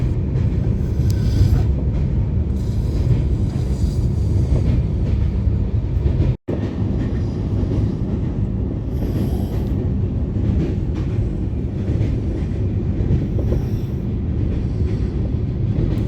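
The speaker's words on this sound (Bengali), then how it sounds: "ট্রেন ক্রস করছে মহানদী" A train crossing the Mahanadi river bridge rumbles along steadily with a deep, continuous roar and rattling wheels, close and loud throughout, with one brief dropout partway.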